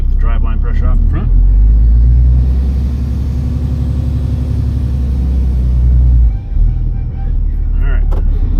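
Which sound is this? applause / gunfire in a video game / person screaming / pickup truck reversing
pickup truck reversing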